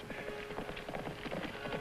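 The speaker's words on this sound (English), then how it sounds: "He always rides a black horse." Horse hooves clip-clop quickly and steadily on hard ground in a 1957 Zorro television episode, the rhythmic beats sounding close and fairly loud with no talk over them.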